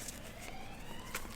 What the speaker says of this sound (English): There's a siren going past.